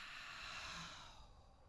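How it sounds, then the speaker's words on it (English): A single slow breath is exhaled out through the mouth as a soft, airy rush that fades toward the end; it is very faint and close, with no talking. "And breathing out."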